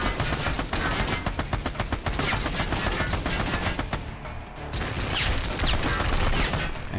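Rapid automatic gunfire in the Army of Two basic training prologue, with dense bursts in quick succession for most of the stretch, loud and close, easing briefly before more shots resume.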